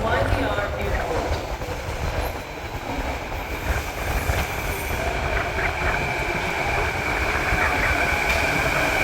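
A SkyTrain car from YVR Airport rolls into an outbound platform, a steady rumble of wheels on rail with faint squealing and clatter throughout, moderately close.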